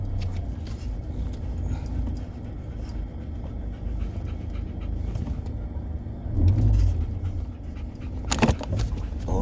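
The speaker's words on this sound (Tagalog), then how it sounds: "Yan si Troy, hinihingal si Troy." Dog panting steadily on a walk outdoors at Savannah, quick rhythmic breaths close by over a low rumble of passing traffic, with a brief louder burst near the end.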